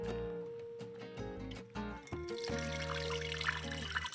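Water poured from a cup through a potted orchid to soak its root ball, a steady splashing trickle that builds in the second half beneath sustained background music.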